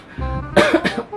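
A single person coughs at close range, a brief throaty rasp followed by a burst of two or three harsh hacking coughs, loud and alone with no talking.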